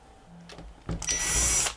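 Screws being removed from the board of a Magnavox MWD2205 VCR-DVD player with a power screwdriver: a few light handling clicks, then a short, loud, close whirring burst.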